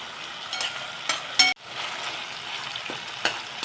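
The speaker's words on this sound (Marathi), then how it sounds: "टॅमॅटो घातल्याने गॅस मंद करून छान हे परतून घ्यायचं" Tomatoes sauté over a low flame in a pan of bitter gourd masala, giving a steady close sizzle broken by a few brief stirring scrapes.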